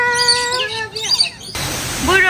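Outdoor bird chirping in several bright, repeated whistled calls, loud and close, with a brief pause midway before the calls resume against light background noise.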